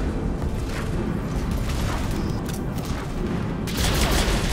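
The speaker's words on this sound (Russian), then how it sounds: "Взрыв." An explosion in Mass Effect 3, a loud sustained rumbling blast with a dense low roar that swells again near the end.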